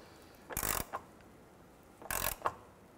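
An 18 millimeter wrench and a 15 turn the nut and bolt of a rear trailing arm bracket on a 2006-2013 Chevrolet Impala, giving two short ratcheting bursts about a second and a half apart, close and fairly quiet.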